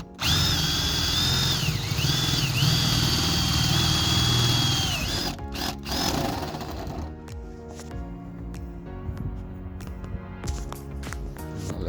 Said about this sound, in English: Let's drill holes in a perfectly good roof